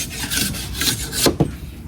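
Bamboo nodes scraped off a bamboo chair's backrest, making dry raspy strokes that repeat at close range and end with a few sharper knocks.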